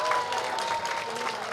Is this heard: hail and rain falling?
no